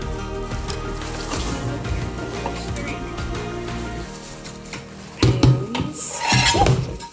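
Kitchenware including knives, pans and plates being unpacked while moving into a student room, with clattering metal and ceramic clinks and rustling wrapping, louder rattles near the end.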